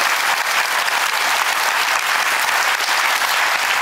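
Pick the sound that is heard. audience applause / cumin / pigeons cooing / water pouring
audience applause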